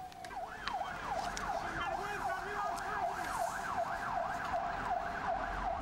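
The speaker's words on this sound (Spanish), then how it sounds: "Lo ha hecho dentro de un furgón de la Guardia Civil escoltado por un vehículo de la Benemérita, ambos con las sirenas puestas" Guardia Civil police vehicle sirens wail in a fast, repeating up-and-down sweep, steady and fairly close, with road and traffic noise beneath throughout.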